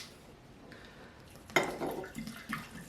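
A kitchen tap bursts on partway through and water splashes into the sink as hands are washed, close and moderately loud after a quiet start.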